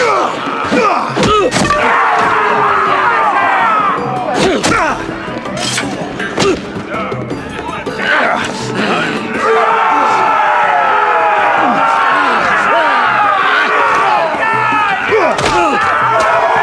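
A roaring arena crowd in a Game of Thrones video game swells steadily throughout, with scattered thuds and slams and game characters talking over the din.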